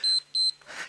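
Two short, bright electronic beeps from a workout interval timer during a beginner full-body Tabata session, evenly spaced and fairly clear, followed by a soft rustle.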